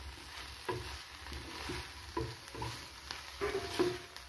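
A spoon scraping and stirring a bread snack mixture in a pan, with soft rhythmic strokes and faint sizzling, fairly quiet and close.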